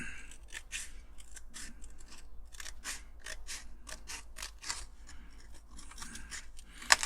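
Scissors snip repeatedly, close and crisp, trimming excess tape along a Corgi Police Mini Van model under restoration, a steady run of short cuts ending with a sharper click.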